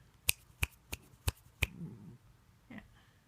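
Five sharp, close hand claps in a quick, fairly even rhythm beside Charlie, a sleeping deaf dog, followed by soft rustling and a faint brief sound in a quiet room.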